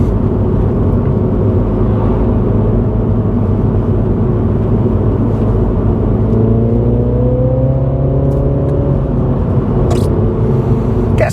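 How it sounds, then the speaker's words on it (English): Car accelerating hard to overtake on a national speed limit road, a steady engine rumble heard from inside that climbs in pitch as the throttle is squeezed, loud and continuous. "squeeze on the accelerator to get up to speed"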